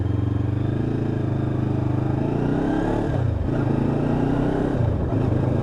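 A Lexmoto LXR 380 motorcycle engine hums steadily and loudly while riding on the road, with a dip and pitch shift partway through as the throttle eases and picks back up.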